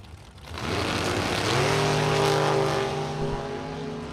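A drag race run pits a 1969 Chevrolet Nova against a dragster, engines roaring up loudly from the line and holding a strong sustained howl that begins to fade as the cars pull away.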